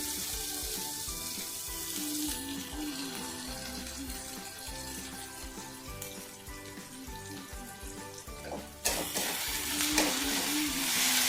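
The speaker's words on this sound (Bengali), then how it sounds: "ভালো করে শুটকি মাছটাকে কষিয়ে নিচ্ছি" Dried fish frying and being stirred in a pan with spices, a loud continuous sizzle with scraping stirs throughout and a sudden louder burst near the end.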